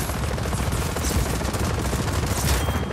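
Dense, continuous gunfire in Just Cause 4, rapid automatic bursts that fill the whole stretch loudly, layered with explosive booms and a low rumbling backdrop.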